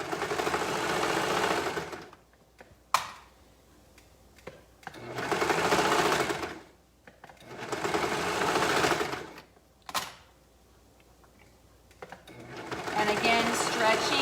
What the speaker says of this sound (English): stretching the binding a bit as I sew.